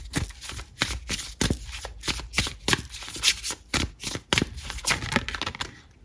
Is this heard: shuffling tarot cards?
yes